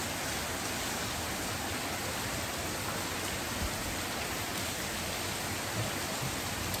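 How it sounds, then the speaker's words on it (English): Steady rain falls on a rainy day in Riley, a dense, even hiss with no breaks, moderately soft and heard on its own without voices. "but it's a rainy day in Riley"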